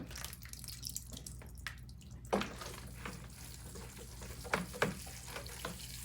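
Water poured over a potted chili plant indoors, giving a steady close patter and trickle with a few sharper splashes, no voices.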